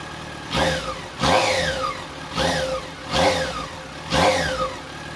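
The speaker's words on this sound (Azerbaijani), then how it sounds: "İndi isə siz üçün biraz qaz vermək istəyirəm" A Yamaha FZ6N motorcycle with a stock exhaust and catalytic converter, revved with the throttle in five close, evenly spaced blips, each rising sharply and falling back to idle.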